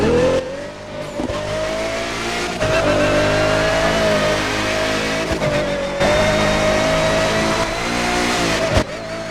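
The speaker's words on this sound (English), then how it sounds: "I want you to listen to the engine sounds" A Pagani Huayra's engine revs loud and close in The Crew 2 racing game, its pitch climbing and dropping through repeated gear changes, with a brief tire squeal near the end and no talking over it.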